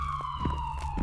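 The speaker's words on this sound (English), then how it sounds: "That's definitely a police siren." A police siren sounds in an indie horror video game, a steady wailing tone over a low rumble, brief and fairly loud.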